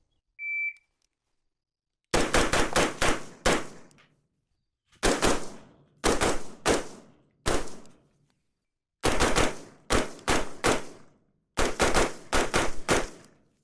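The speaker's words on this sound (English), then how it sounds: "Shooting pretty good, very soft shooting rifle" A Type-A Blood Diamond AR-15 rifle fires in rapid strings of sharp, loud shots, several bursts of three to five rounds separated by silent pauses, after a brief electronic beep at the start.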